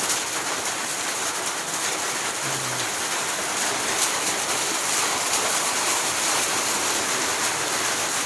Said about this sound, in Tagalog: Kanina napakainit. Ngayon biglang umulan.